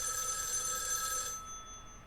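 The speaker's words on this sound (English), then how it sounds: "Suddenly the phone from the next one rings." A telephone bell rings with a bright, steady trill in the video game Spirit Hunter: NG, then cuts off, leaving a faint tone behind.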